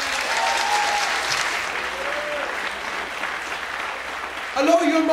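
Sustained audience applause fills a martial arts event hall, loud and even with crowd noise, as a voice comes in over it near the end.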